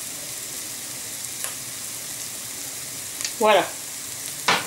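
Onions stirred with a teaspoon of paprika in a pan sizzle faintly and steadily, with a couple of brief scraping stirs near the end and a short spoken word.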